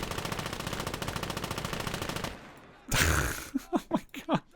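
Rapid, sustained machine gun fire from a WW2 battle in a combined RTS and FPS video game, loud and continuous for about two seconds, followed by a burst of noise and a few short voiced sounds.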